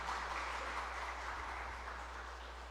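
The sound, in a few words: congregation applauding in church service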